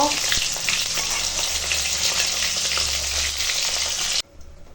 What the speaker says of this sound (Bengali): দেখো মাছটা এখন ভাজা হয়ে গেছে এবার তুলে নেব